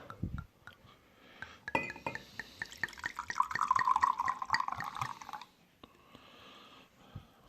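Old Egri Bikavér red wine is poured from a bottle into a glass, with clinks and drips before a steady gurgling stream for a few seconds, then faint drips, close and quiet.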